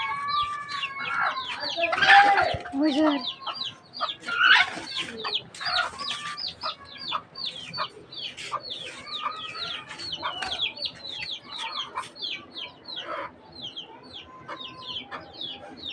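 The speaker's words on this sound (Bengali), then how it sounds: "দেখছেন মুরগির বাচ্চা।" A hen and her chicks cluck and peep close by, a busy stream of high chirps with lower clucks mixed in, while a person speaks briefly over them.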